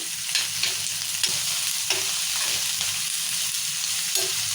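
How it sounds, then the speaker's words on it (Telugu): Red chillies and onion frying in hot oil, a steady dense crackling sizzle with occasional soft pops and spatters, close and even in loudness throughout, with no talk over it. "మిరపకాయలు వేయగానే చిల్లపట అని చిక్కుతుంటాయి"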